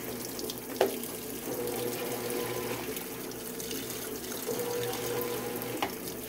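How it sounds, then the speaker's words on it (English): A GE GTW680BS6JWS top-load washing machine agitates a load of jeans and shorts in water, giving a steady, continuous sloshing and swishing with a couple of brief knocks, close and without talk. "So this kind of shows off how good the agitation is."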